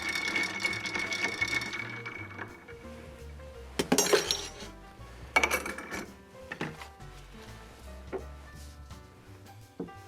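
Ice clinking and rattling against a glass as a higher-proof bourbon apple cider cocktail is stirred, with bright chinks and a few sharper knocks, close and fairly quiet, and nobody talking.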